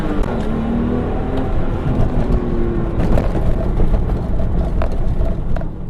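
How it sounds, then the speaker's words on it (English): A manual Porsche 911 launches hard from a San Francisco stoplight, its engine roaring loud and close as it revs and pulls through the gears, with road and wind noise throughout. "Do another little launch here at this stoplight."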